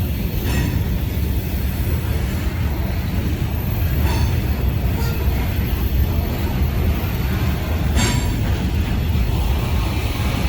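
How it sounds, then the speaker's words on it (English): A heavy loaded grain freight train rumbles across a large bridge over the Ohio River, loud and close, in one unbroken roar with faint metallic squeals above it. "This is a loaded grain train"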